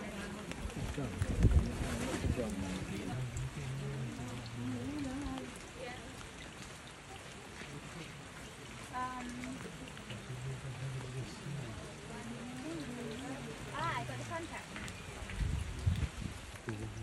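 Steady rain patters on a surface throughout, a broad wash of drops with people talking over it and a few louder bursts near the start and end.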